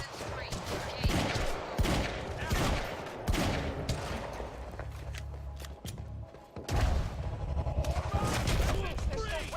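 Gunfire in the video game Quantum Break: repeated loud bursts of shots and heavy impacts in a dense, chaotic firefight, with brief lulls between volleys and a sudden return of intense fire near the end.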